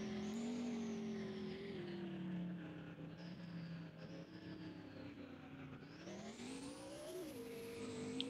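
A fast truck drifting in the Car Dealership Tycoon video game gives a loud, continuous engine drone that sags and climbs in pitch with gear and throttle changes, mixed with a faint tire squeal.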